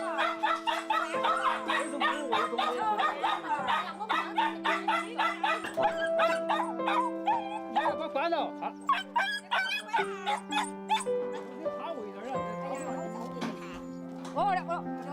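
Many dogs held at a dog meat supplier's bark, yip and howl together in a loud, overlapping chorus with whimpers mixed in. Long howls stretch out beneath a nearly unbroken run of sharp barks, and a voice talks over them.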